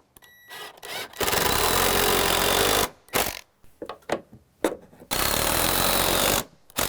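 Power drill boring a new angled hole in deck framing during a repair of sagging joists and loose hangers, in several loud sustained bursts of a few seconds each, separated by short pauses and scattered knocks.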